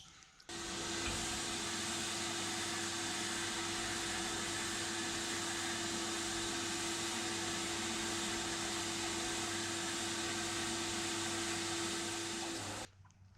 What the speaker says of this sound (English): We'll chuck it in the dry blaster and yeah, give that a crack.